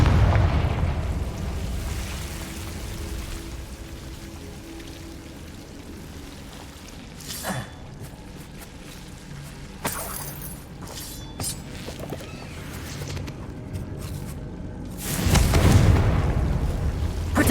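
Confringo spell blasts in the Hogwarts Legacy video game, heavy booming bursts with a loud one near the end, over a steady rumbling crackle like rain.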